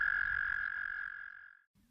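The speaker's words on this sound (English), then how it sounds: "Picture shows baby frog" A baby frog in a muddy jungle setting croaks in one steady, sustained trilling call that fades out after about a second and a half, loud and close, with no talking.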